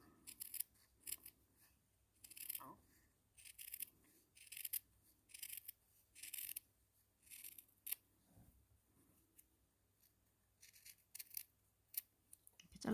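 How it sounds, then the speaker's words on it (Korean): Scissors snip through fabric in a steady series of short crisp cuts, close and quiet, with brief pauses between strokes and a soft voice now and then. "여기만 이렇게 잘라 주시고"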